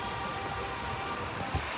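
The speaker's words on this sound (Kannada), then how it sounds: "ಮಳೆನೇ ಬಂದ್ಬಿಡ್ತು ನೋಡಿ" Rain falling steadily at an outdoor spot with a shed nearby, a soft, even patter with one brief thump near the end, and no one talking.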